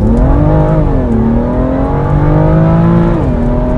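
A 2018 BMW M2 Coupé in Sport Plus launches hard from a standstill. The loud engine note climbs steadily in pitch, with shift breaks around one and three seconds. No one speaks over it.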